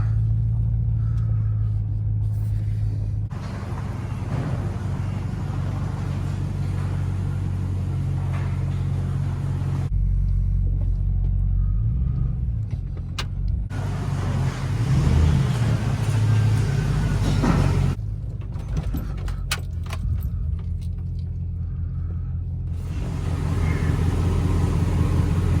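A 2006 Chevy Silverado truck rumbles into a shop, engine droning loud and near with shifting revs and a couple of brief surges, no talking.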